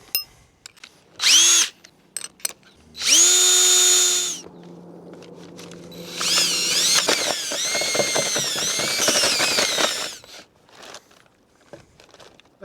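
A DeWalt power drill with a mixing attachment stirs a brain tanning solution for a bear hide. Short high whining bursts with pauses come first, then a longer uneven grinding run of churning and rattling that cuts off near the end.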